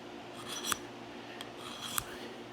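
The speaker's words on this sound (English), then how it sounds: "it makes a horrible sound. It's ringing in your ears like fingernails on chalkboard" A carbide knife sharpener scrapes along a knife blade in three quick, gritty swipes, close and fairly faint, spaced under a second apart with quiet between them.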